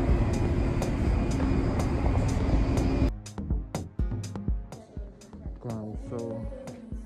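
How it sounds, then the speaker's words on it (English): A loud, steady rumble of a subway train fills the first few seconds, then it gives way to voices talking over quieter background noise. "we're about to take another train."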